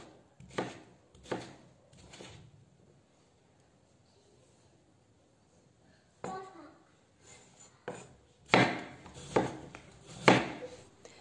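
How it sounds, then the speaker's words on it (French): Two washed, peeled potatoes are diced into small cubes, sharp knife chops striking a board in short bursts, a quiet pause in the middle, then a quicker run of louder cuts. "Maintenant, je les coupe en petits cubes."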